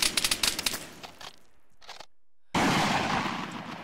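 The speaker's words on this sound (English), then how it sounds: "We're getting shot from behind." Burst of gunfire in the military shooter game Arma 3, rapid cracking shots at the start, then a brief lull before a sustained loud roar of firing resumes.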